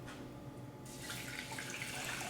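Water for elderberry syrup pours into a pot, a steady gushing splash that starts abruptly after a quiet moment and keeps running evenly to the end.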